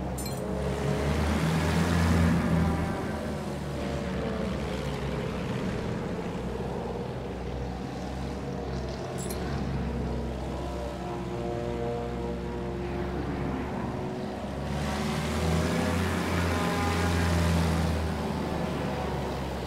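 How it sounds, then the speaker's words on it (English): Droning propeller engine of a Bristol plane in a Battlefield game, a steady loud hum with harmonic whine that swells at the start and again near the end as throttle changes. "Bristol will handle like the other planes. Less throttle means you can make tighter turns."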